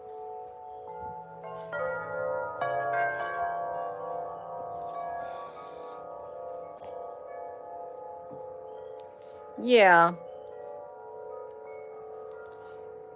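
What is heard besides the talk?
insects chirping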